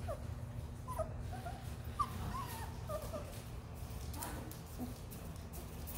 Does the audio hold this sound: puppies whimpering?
yes